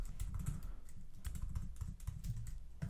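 Steady, rapid typing on a computer keyboard, close and continuous, with dense clicky keystrokes and no talking.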